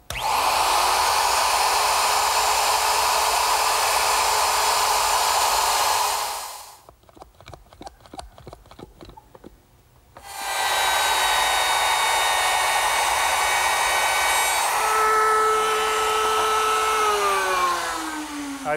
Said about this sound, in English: I'll complete the cut with my router